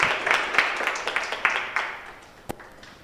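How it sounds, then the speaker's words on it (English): A round of applause from a conference audience at a research-week session, a dense patter of many hands that fades over about three seconds, ending in a single sharp clap after the clapping dies away. "Let us all give a round of applause for Mr."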